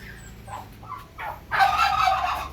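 Turkey poults in a brooder give soft, scattered high peeping chirps, then a louder burst of busy overlapping calls from the group close by.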